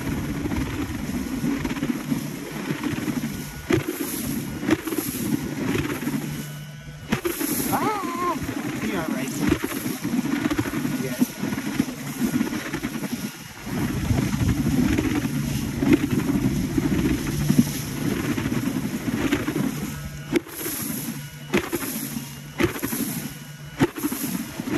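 Electric hydrofoil board's propeller motor whirring steadily on the water, a continuous motor hum with splashing, wind and a voice talking over it at times.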